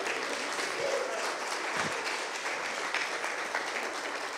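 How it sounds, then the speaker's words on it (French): An audience gives a steady round of applause, dense clapping at moderate distance that continues evenly throughout. "on vous donne une petite main d'applaudissement pour vous remercier"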